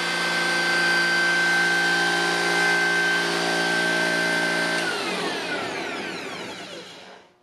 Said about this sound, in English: A lot louder than I expected, and certainly a lot louder without the cowling and everything on the motor.